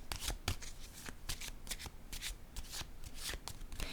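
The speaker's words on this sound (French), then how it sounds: "Je vais déposer une autre carte" Tarot cards being handled and set down on a table, a close, steady run of crisp paper flicks and soft slaps with no voice over them.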